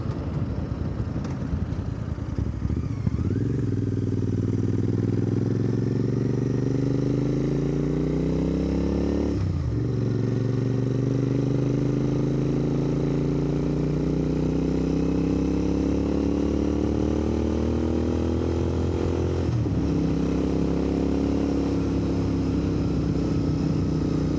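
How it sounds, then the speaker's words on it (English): Royal Enfield motorcycle riding along back lanes, engine droning steadily and rising in pitch through three gear runs, with brief dips at each shift, loud and close. "A lovely handling bike, this, you know."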